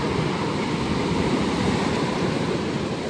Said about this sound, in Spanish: Ahí pueden escuchar el sonido de las piedras, como las arrastra la, la correntada que deja la ola.